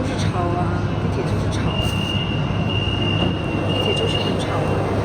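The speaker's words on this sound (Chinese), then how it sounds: "地铁就是吵啊，地铁" A noisy metro train running, heard from inside the carriage: a loud, steady roar and rumble of wheels on track, with a faint whining tone rising over it partway through.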